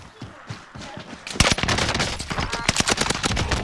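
Rapid video game gunfire erupts after a quieter opening, a loud, dense burst of overlapping shots and automatic fire continuing to the end, with faint voices beneath.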